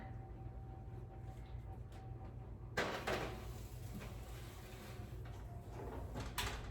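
A tray of roasted-soup ingredients, onions and a liquidy mix, slides into a hot oven with a sudden metallic clatter and a softer knock near the end, over a low, steady kitchen hum.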